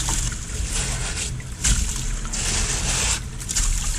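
Water and gravel wash through a gold prospecting sluice on an icy Wisconsin creek, a close, steady rushing and sloshing that swells in pulses as material tumbles down the box.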